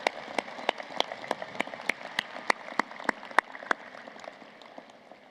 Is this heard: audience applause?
yes